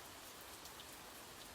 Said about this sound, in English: allow the rhythm of the rain to lull you deeper into relaxation